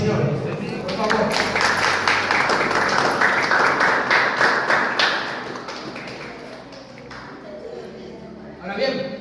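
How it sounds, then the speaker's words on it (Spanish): Congregation applauding for the Lord in a church, dense steady clapping that swells and then gradually fades, with a brief thump near the end. "Den un aplauso al Señor, por favor."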